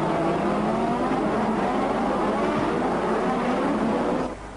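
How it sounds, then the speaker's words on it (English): Formula 1 cars racing at the 1987 Australian Grand Prix, a steady loud engine roar with rising and falling pitch as cars pass, continuous throughout and easing off at the very end. "The Ferrari was already looking invincible, with Berger riding the curves at the chicane"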